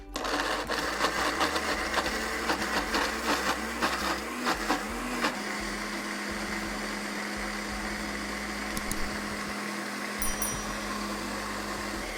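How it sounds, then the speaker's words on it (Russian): Cashews, green onion, garlic, cilantro and olive oil blend in a kitchen blender, a continuous loud whirring motor hum with some rattling early on, steady for about twelve seconds. "Перебиваем все до однородной кремообразной консистенции."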